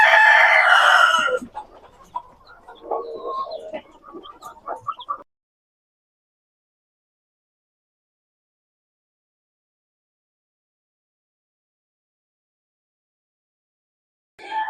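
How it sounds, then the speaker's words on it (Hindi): Day-old chicks cheep and chirp loudly up close for the first few seconds, then softer scattered peeping trails off into near silence, with one brief chirp returning at the very end. "एक दिन के चूजे हैं"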